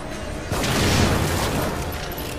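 A muffled explosion booms in The Evil Within during a speed run, a sudden dull burst that swells and rolls off over a couple of seconds with no talking.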